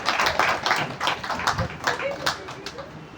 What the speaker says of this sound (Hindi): सुनीता जी अपने लिए ताली बजाओ